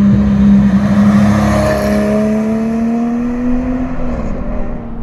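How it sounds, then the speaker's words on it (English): A Guntherwerks Speedster built from a Porsche 993 sounds a loud race-car engine note that holds a deep, steady drone and slowly climbs in pitch, with no voices over it. "it immediately moves into that kind of common like GT3 Porsche race car sound"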